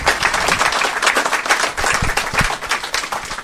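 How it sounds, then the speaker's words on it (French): A conference audience breaks into steady, dense applause, many hands clapping loudly and continuously throughout with no speech over it. "je crois qu'on peut applaudir Jean"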